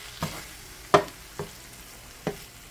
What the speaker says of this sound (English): I'm going to go ahead and mix this in with the meat.